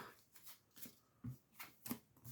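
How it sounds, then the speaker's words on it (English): Magic: The Gathering cards shuffled by hand for a mono-red deck, giving a few quiet riffling bursts of soft card flicks spaced across a couple of seconds, close and faint with no talk. "we'll shuffle them up again"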